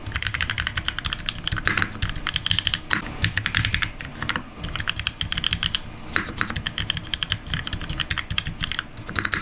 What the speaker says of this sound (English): I know some of you would like to hear how the keyboard sounds.